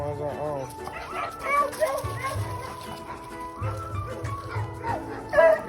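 Three pet dogs barking and yipping in short bursts at home, with some whimpering, close to the microphone, mixed with a person talking and children's voices.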